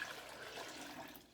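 Filtered water being poured into a Vitamix blender, a steady soft splashing pour lasting about a second, faint and alone without talk.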